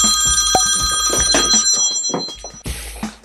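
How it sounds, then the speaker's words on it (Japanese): A phone ringing with an incoming work call, a loud, close electronic ringtone of bright bell-like tones repeating over a couple of seconds. "もう、仕事の電話来ちゃったよ。"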